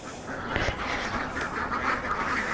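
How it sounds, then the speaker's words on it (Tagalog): Ducks quack repeatedly nearby, a few bursts of raspy calls over a soft outdoor background. "Ayan oh, daming pato."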